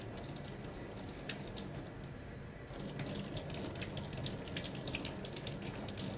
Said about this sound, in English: Rinse hands and arms by passing them through the water in one direction only, from fingertips to elbow.